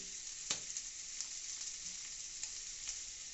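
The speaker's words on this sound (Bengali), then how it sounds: "চিংড়ি মাছ ভাজাটাকে আস্তে আস্তে আমরা তুলে নিচ্ছি" Prawns fry in hot oil in a kadai with a soft, steady sizzle and occasional sharp pops and clinks spaced a second or so apart, heard alone without talk.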